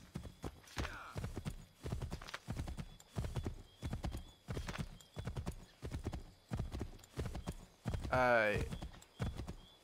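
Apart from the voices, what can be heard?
horse galloping in the video game Assassin's Creed III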